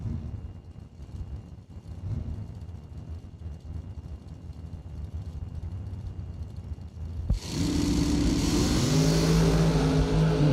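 A drag-racing dragster at a bracket race, its engine a distant rumble at first, then bursting into a loud, sustained roar in the last three seconds as it launches and pulls away.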